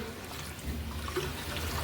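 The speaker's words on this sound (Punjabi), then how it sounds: "1 ਕਿਲੋ ਦੇ ਕਰੀਬ ਅਸੀਂ ਪਾਣੀ ਪਾਵਾਂਗੇ।" Water poured into a cooking pot for mutton and fish karahi, a continuous low splashing gush that swells slightly midway, with no voices.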